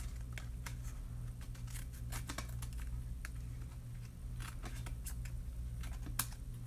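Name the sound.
scissors trimming excess paper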